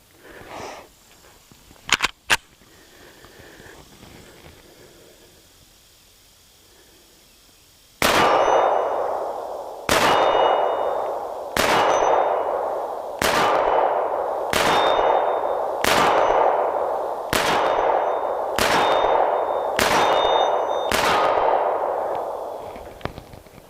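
A Springfield Armory XD-45 pistol fires .45 ACP Blazer brass rounds outdoors, with about nine loud, sharp shots at a steady rhythm after some quiet handling clicks.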